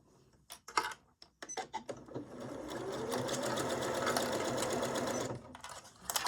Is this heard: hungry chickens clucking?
no